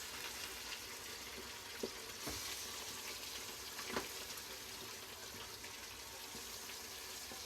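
Fish frying in hot oil in a home kitchen, a steady soft sizzle and crackle with a few faint clinks of utensils, quiet and continuous with no talking.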